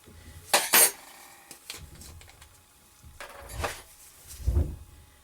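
A metal teaspoon clinks and taps against a container while fragrance oil is measured out for homemade bath bombs, giving a few short, sharp clicks at the start and a duller knock near the end, close and fairly quiet.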